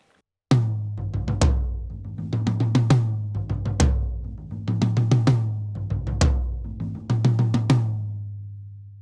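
Drum kit miked with a condenser microphone aimed at the middle of the drum, played in a steady groove of booming low hits and crisp cymbal strikes that ring out at the end, close with no talking.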